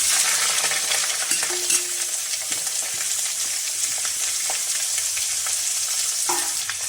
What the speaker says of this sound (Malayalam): ഇത് നന്നായിട്ട് വഴറ്റി കൊടുക്കണം നല്ല നല്ലോണം വഴക്കണം കേട്ടോ